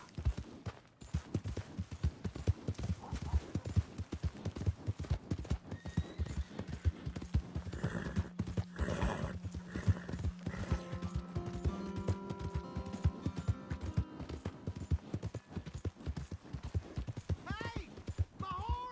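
Horse hooves clip-clopping in the video game Red Dead Redemption, a steady rhythmic trot running through the whole stretch, fairly close, with a brief whinny and voices talking over it in places.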